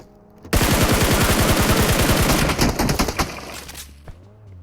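Rapid automatic gunfire in a video game scrim, a loud sustained burst of evenly spaced shots for about three seconds, then a few scattered single shots fading out.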